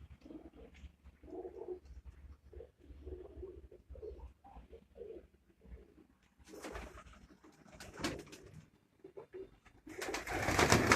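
Pigeons kept in a rooftop cage cooing, repeated soft low throaty coos in an uneven rhythm, fairly close, with some rustling and a louder noisy burst near the end and no talk.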